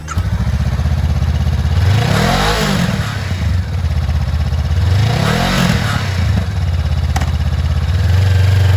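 A used 2022 Honda CBR500R lightweight sport motorcycle with ABS runs close by, its engine idling and then revving up and back down twice in smooth swells.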